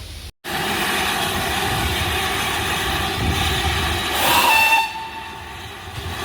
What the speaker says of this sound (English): (4247) on the Paignton Dartmouth steam railway, Paignton Queen's Park Station, moving to the front of the train